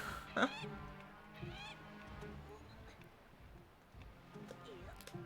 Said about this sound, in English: Either there's a humongous bird outside, or Twiins is truly going crazy.